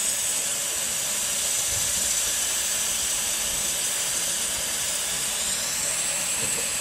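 Shrimp frying in butter and garlic in a pan, a steady, dense sizzle and hiss held at an even level throughout, close and continuous with no voices over it.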